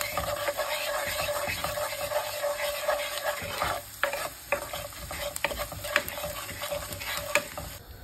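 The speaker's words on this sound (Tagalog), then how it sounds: "kumukulo na po ngayon ang tubig" Water heats at a rolling boil in a pot ready for spaghetti, a dense, steady bubbling hiss close by with scattered sharp pops and clinks running the whole length.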